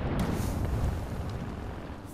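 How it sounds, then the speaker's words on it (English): A thermite grenade goes off in a battle royale shooter game with a deep, roaring burst and rumble at close range, fading over about two seconds. "Throwing thermite."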